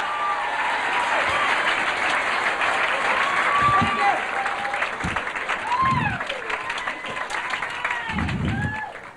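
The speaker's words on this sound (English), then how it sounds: "How about a big round of applause from Tahoe" Comedy club audience applauding a comic magician as he is introduced, steady crowd clapping with an announcer's voice and tonal sounds over it.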